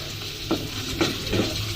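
Spiced masala sautéing in a pan over a gas flame: a steady, close frying hiss broken by three soft spatula scrapes roughly half a second apart.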